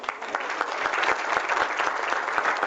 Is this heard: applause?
yes